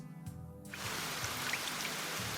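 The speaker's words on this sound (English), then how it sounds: "Damn, it's raining." Rain in the Heart Cage video game, a dense steady patter of raindrops that swells up after a brief quieter opening and then holds loud and continuous.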